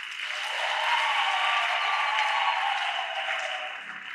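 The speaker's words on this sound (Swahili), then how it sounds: "Safi jamani, wapigieni makofi." A church congregation claps together during a confirmation class, a steady, full burst of applause that lasts about four seconds and then fades slightly, with no talk over it.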